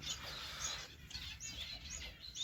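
Small birds chirp in repeated short, high tweets inside an outdoor aviary in autumn, fairly faint over a steady background hiss with no talking.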